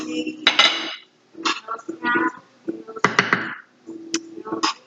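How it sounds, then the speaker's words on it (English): A knife chops garlic on a cutting board in a home kitchen while plantains cook, giving a series of sharp, close knocks and taps in uneven bursts, with clinks of utensils between them. "and chopping my garlic"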